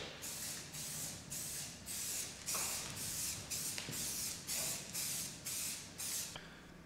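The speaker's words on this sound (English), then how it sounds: "using a few cans of spray paint" Spray paint cans hiss in about ten short, even bursts, each lasting roughly half a second with brief gaps between, close and fairly quiet, no talking.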